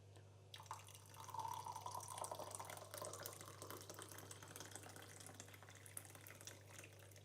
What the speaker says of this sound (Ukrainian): та заливаємо гарячою водою.